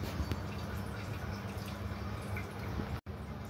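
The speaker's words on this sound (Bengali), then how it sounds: "তো প্রথমে সয়া সস দিয়ে দিচ্ছি" Soy sauce pours onto washed beef in a kitchen as a quiet, brief liquid trickle with soft drips against light background noise.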